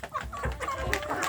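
Young free-range village chicks in a grow-out pen cluck and peep close by in short overlapping calls while being fed in the morning.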